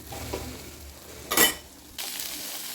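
Beans masala stirred and frying in a pan, a steady sizzle with a brief, louder scraping burst of the spoon midway and brighter frying noise toward the end.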